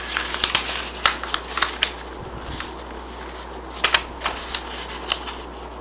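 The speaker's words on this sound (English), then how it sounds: "Then I'm going to fold it this way." A sheet of paper is folded and creased by hand, with crisp crinkles and sharp slides in quick bursts, close and fairly quiet, no talking.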